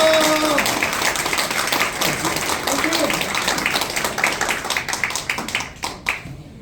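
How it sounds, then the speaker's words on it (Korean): Audience clapping at a Korean candidate's press conference announcing a run in a district head by-election, a loud continuous round of applause that thins into scattered separate claps near the end. "큰 박수 부탁드리겠습니다"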